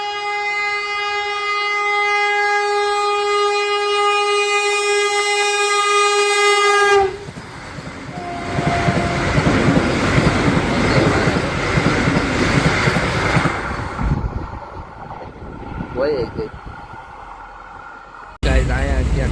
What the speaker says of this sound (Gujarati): જો ગાઈસ અડધી કલાક રાહ જોઈને પછી ટ્રેન આવી.